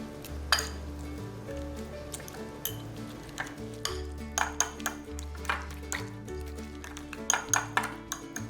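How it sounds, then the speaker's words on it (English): Cream cheese spread mixed with milk in a bowl, a close series of light clinks and taps of a utensil against the bowl in an uneven stirring rhythm over a low background hum, with no voices. "add 2 to 3 tablespoons of milk and mix"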